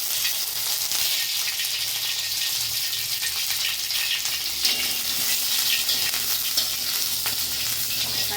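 Curry leaves dropped into hot oil, a steady loud crackling sizzle that fills the whole stretch, close up, with faint clinks of stirring and no talk.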